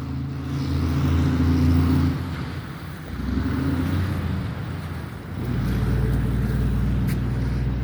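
Razor MX350 electric dirt bike ridden outdoors, a continuous whirring drone that rises and falls in three surges, mixed with wind noise on the microphone.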